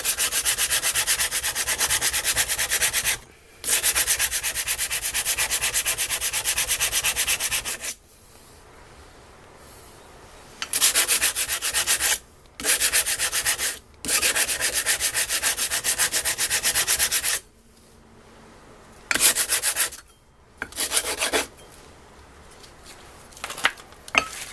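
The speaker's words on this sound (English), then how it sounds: "These are the silicone carbide sandpapers" A rusty steel round knife is rubbed by hand with coarse 60 grit silicon carbide sandpaper, steady gritty scraping in long bursts broken by short pauses, close and fairly loud without speech.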